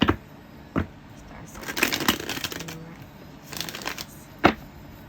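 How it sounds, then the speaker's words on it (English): A deck of tarot cards being shuffled during a reading, with soft riffling and sliding bursts and a few sharper snaps, close and fairly quiet, with no talking. "One more shuffle"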